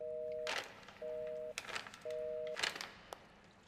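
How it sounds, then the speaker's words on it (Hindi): Three evenly spaced electronic phone tones sound through a quiet line, each about half a second long, with soft clicks and rustling between them. "फोन नहीं लग रहा, मुझे लगता है उसने नंबर चेंज कर दिया।"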